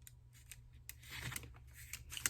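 Scissors snip through paper for a fall-themed junk journal, a handful of quick close cuts with short pauses, faint and alone.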